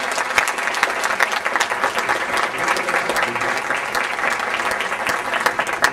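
An audience applauds in the São Paulo Legislative Assembly, with steady, dense clapping from many hands that fills the hall throughout at a lively, even level.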